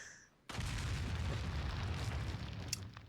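A loud explosion bursts out suddenly in the Resident Evil 4 canyon level, a heavy boom followed by a sustained roaring rumble.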